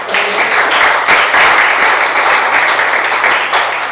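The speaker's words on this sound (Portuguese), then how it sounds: "Pode dar uma aplauso ao Senhor Jesus?" Congregation in a church service applauding in praise of Jesus, a dense, loud, sustained wash of clapping from many hands filling the whole stretch, with a faint steady hum beneath.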